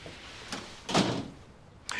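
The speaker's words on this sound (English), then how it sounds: "Door, Calum." A door in a TV drama scene gives a single brief thud near the middle, then a softer fading rustle. A faint voice-like murmur sits low in the background.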